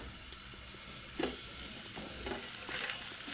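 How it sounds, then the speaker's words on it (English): Onions with a little parsley fry in a pot for a sundried beef stew, a soft steady sizzle with faint stirring scrapes, quiet and close with no talking. "So my onions are cooking."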